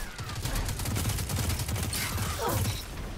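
Rapid gunfire in the video game Destiny 2, a dense continuous volley of shots with mechanical clatter and a rising whine partway through, loud and without talk.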